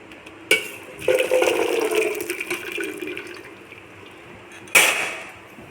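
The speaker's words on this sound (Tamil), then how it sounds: "இப்போ இந்த கார்ன் எல்லாம் பாயில் ஆக ஆரம்பிச்சிருக்கு" Corn kernels boil in bubbling, hissing water that churns steadily for a few seconds, with two sharp splashy bursts near the start and end, close by.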